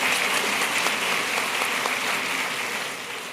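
A congregation gives a pastor a warm welcome with dense, continuous clapping that stays loud and then fades slightly near the end.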